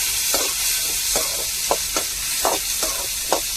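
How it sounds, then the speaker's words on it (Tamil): Onions sautéing in a pan, a constant loud sizzle broken by regular spatula scrapes and stirs roughly every half second, close up with no voices. "வெங்காயத்தை நல்லா வதக்கி விட்டுக்கிடுவோம்"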